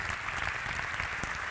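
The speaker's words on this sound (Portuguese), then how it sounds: "Uma salva de palmas para eles, por favor." An audience at a Portuguese travel-agents' national congress breaks into dense, continuous applause for the team, sustained and fairly loud for the whole moment.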